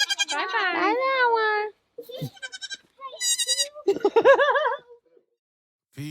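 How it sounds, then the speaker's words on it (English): Baby goats bleating close by in a series of wavering, high calls, with quiet gaps and light human chuckling mixed in. "These goats, yeah. those baby goats?"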